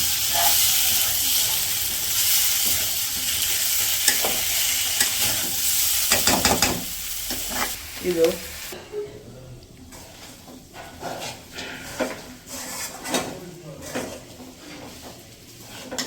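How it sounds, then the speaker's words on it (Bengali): Meat sizzles and hisses loudly in a hot pan, then quiets into intermittent stirring and scraping, with voices heard faintly. "একটু ভাইজা নিয়ে এরকমই"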